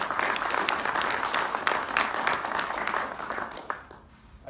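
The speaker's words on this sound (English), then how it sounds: "Another round of applause." An audience at a World Autism Day inclusion event gives a warm round of applause, a crowded, continuous patter of clapping that tapers off and quiets near the end.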